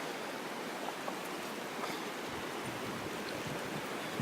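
A river near Lake Christabel rushes steadily, a dense even hiss of flowing water without pauses or voices.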